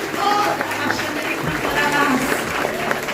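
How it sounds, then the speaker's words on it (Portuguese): Congregation applauding during a church service; a continuous bed of clapping with raised voices and cries of praise mixed through it. "Em nome de Jesus, aplauda esse Senhor."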